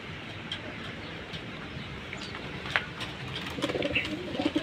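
Pigeons in a loft coo softly and steadily at moderate distance, a low continuous murmur of birds with occasional brief sharper calls and a few louder bursts toward the end, no talking.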